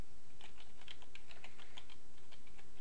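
Faint computer keyboard typing, a run of quick irregular keystrokes at low level with a steady background hum and no talking, while DOS commands are entered.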